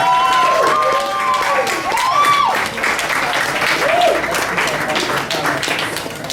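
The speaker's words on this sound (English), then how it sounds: "Noise for Miss MONALISA OKOJIE" Audience applause and cheering at a live event, a dense, sustained wash of clapping with whoops and shouts rising over it, loud and near throughout.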